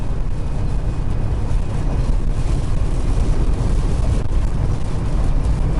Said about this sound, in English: I think you guys see me getting blown around just a second ago.